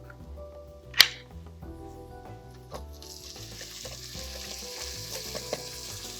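Tomato, onion and garlic fry in olive oil in a pan, a steady crackling sizzle with stirring scrapes and a sharp clink near the start, the sizzle growing brighter partway through, with no talk.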